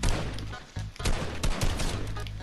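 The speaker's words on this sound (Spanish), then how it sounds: "De lejos con un disparo." Gunfire in the Fortnite video game, a rapid cluster of loud sharp shots in quick bursts across the whole stretch, dense and close with brief gaps between volleys.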